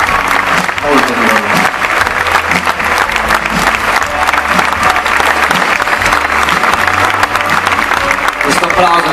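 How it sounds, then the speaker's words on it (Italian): Festival crowd applauding at an outdoor concert in Barolo, a dense, loud, steady wash of clapping for the full length with some cheering and voices mixed in. "Questo applauso che vi dedicate, di cui vi ringraziamo"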